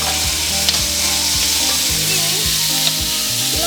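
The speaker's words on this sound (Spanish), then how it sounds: "Tiene que estar bien caliente su sartén para que pueda freír la carne." Beef sears in a very hot frying pan for a lomo saltado, a steady close sizzle with a few soft scrapes of stirring, no talking.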